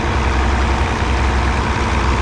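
A truck engine idles on plow day, a steady low rumble that fills the clip evenly from start to finish, close by and fairly loud, with no voices over it.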